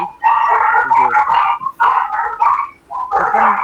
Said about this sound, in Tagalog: Pakimute muna. Yung may aso.